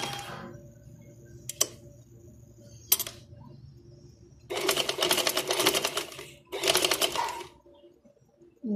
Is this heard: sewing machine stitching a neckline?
yes